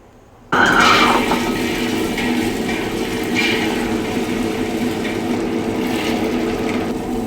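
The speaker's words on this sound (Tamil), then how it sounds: "இப்போ கிரைண்டரில் அரைச்சிக்கலாம்" Wet grinder starting up and grinding soaked rice and urad dal into idli and dosa batter, a sudden onset followed by a steady whirring, sloshing drone, close and continuous with no talking.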